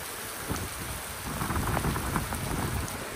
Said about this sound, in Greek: Βροχούλα, μια μικρή βροχούλα.